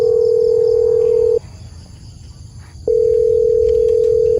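A telephone ringing tone: a steady, pure electronic tone sounds for over a second, pauses, then sounds again, with faint background hiss.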